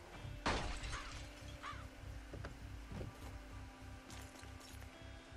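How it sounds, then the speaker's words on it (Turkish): Window glass shatters with a sharp crash in the Project Zomboid video game, followed by fainter scattered tinkles and thuds over a steady low background hum. "Camı kır ya."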